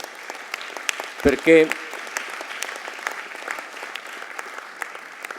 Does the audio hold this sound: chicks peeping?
no